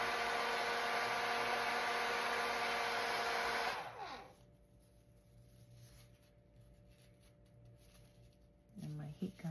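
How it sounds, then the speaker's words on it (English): Heat gun blowing loudly and steadily during a decoupage craft project on a mini clipboard, then cutting off abruptly partway through, leaving a quiet room with faint handling noises near the end. "Heat gun is now cooled off."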